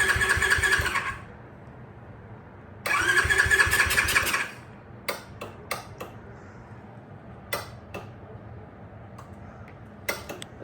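With the choke on, an X-Pro Storm 150 DLX dual sport motorcycle's starter cranks in two loud, buzzing bursts that fail to catch, followed by scattered clicks and knocks with no running engine.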